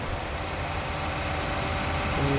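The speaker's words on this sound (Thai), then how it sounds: "แต่เสียงเครื่องเขานิ่มนะ ไม่ใช่รถไฟฟ้านะครับ จะเป็นรถเครื่องยนต์นี่แหละ" Soft, steady engine idle of a remote-controlled tractor in Farming Simulator 19, a continuous even drone with no speech, the tone shifting slightly near the end.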